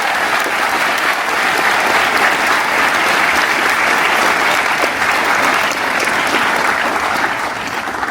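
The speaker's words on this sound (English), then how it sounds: "Give them a big round of applause." Sustained applause from a crowd at a commemorative ceremony, honoring teachers and staff, fills the space evenly and steadily throughout, with no voices over it.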